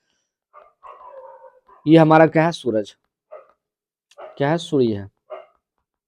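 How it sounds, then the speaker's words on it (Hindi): A dog barks in several bursts close by, tangled with a man's lecturing speech in a classroom-style setting. "अब एक कुत्ता भौंक रहा है"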